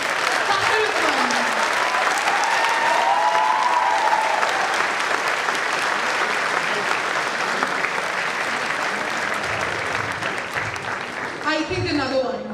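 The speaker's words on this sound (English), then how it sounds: "it was so cool that it deserves another round of applause. Thunderous one." Thunderous applause from a large audience at a university awards ceremony, a dense, sustained wash of clapping that fills the whole stretch and begins thinning near the end.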